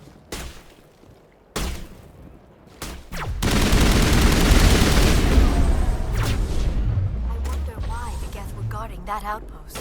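Geth gunfire in Mass Effect on Virmire: bursts of rapid shots and a sustained crossfire roar, with booming impacts. A voice speaks briefly over the fighting.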